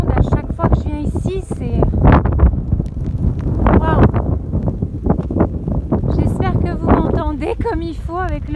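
Gusty wind buffets the microphone on a hilltop while a person talks over it, the rumbling bursts rising and falling throughout.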